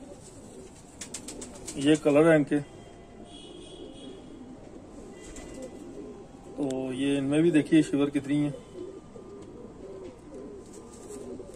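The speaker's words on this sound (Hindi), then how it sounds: "ये हमारे पुलिस डिपार्टमेंट के कबूतर हैं।" Homer racing pigeons coo in two soft, rolling bursts close by, while someone talks over and between the calls.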